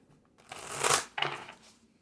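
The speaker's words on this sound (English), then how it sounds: "All right, one more shuffle for the Three of Swords, please." Tarot cards being shuffled, two close papery riffling bursts, the first longer and louder, with a short gap between them and no talk over them.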